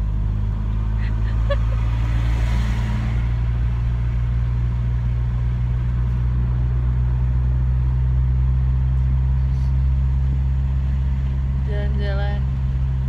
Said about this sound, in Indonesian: Jalan-jalan naik mobil